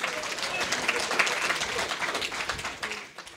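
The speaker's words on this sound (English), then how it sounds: "Applause!" Audience applause during a live wrestling podcast taping, a dense, lively burst of clapping that holds steady for a few seconds before tapering off.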